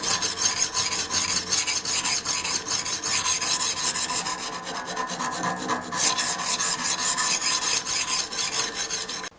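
Hard knife edge being ground on a Horl2 diamond rolling sharpener: a steady, close, gritty rasping scrape in repeated back-and-forth strokes, alone with no talk.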